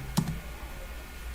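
A computer mouse clicking during spreadsheet work, a few sharp close clicks with quiet gaps between them and no voices.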